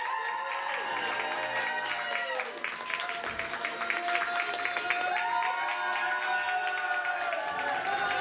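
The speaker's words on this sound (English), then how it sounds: "give them another warm round of applause" Crowd applause and some cheering at an improv comedy match show, heard under sustained musical tones and voices, building a little louder toward the end.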